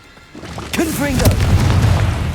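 A Confringo explosion spell in Hogwarts Legacy, a deep, loud boom bursting out and rumbling on after a brief spoken voice, with the low roar lingering to the end.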